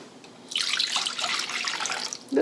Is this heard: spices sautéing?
no